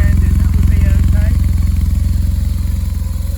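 A BMW HP2 Megamoto motorcycle engine idles close by with a loud, steady, rhythmic thump. A faint voice is briefly audible underneath.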